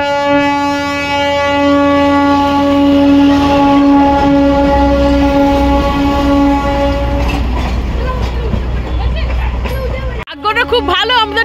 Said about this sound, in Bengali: এই দেখো টয় ট্রেন যাচ্ছে